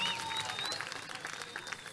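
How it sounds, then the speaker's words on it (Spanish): Audience applause at a live music session fills the room, a dense, steady wash of clapping from a crowd heard at moderate distance, with a faint tone trailing through it. "queremos que ustedes sigan en este escenario y con ese aplauso de todos ustedes"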